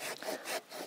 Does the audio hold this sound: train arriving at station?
no